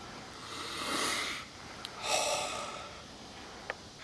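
A person takes a few quick sniffs of a bar of pine tar soap, close and soft, with breathy inhalations spread across a few seconds and a couple of tiny clicks.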